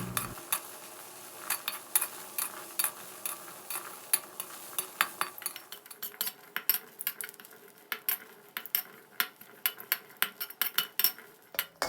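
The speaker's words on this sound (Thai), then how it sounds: "ให้เราคั่วพริกหอมกระเทียมของเราให้สุกหอมเลยนะครับ" Shallots and garlic being dry-roasted in a pan on a gas stove for a Thai boiled-egg chili dip, with repeated sharp utensil scrapes and clinks over a low background, steady and close throughout.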